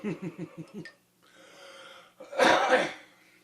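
A few quick rhythmic huffs and a soft exhale lead into one harsh, close cough.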